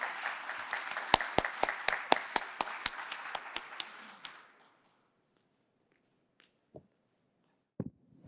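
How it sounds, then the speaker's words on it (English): A grant ceremony audience claps to welcome a speaker to the stage. The applause is moderate, with a few sharp individual claps standing out, and it fades after about four seconds into quiet with a couple of faint taps. "Please give a big round of applause to welcome Tawny to the stage"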